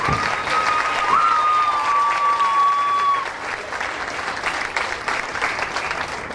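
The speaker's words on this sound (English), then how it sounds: "one last round of applause for all the king candidates and the entire state once again" A county fair audience applauds the king candidates with loud, dense clapping that stays strong, then eases slightly after a few seconds, while a whistle-like tone rises above it and a voice is faintly present.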